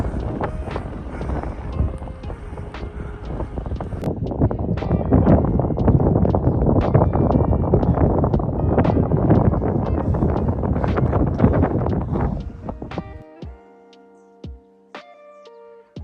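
Strong wind buffets the microphone during a long bike ride, a loud, continuous roar for several seconds, then drops away, leaving faint clicks and a quiet hum.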